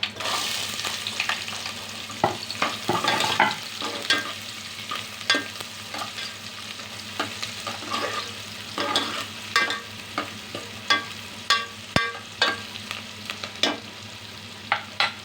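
Onion frying in roasted masala for a village-style mutton curry, a continuous close sizzle punctuated by frequent spoon scrapes and taps, louder stirring toward the end.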